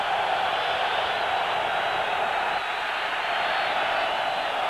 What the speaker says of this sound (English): Boy, and this crowd's into it now.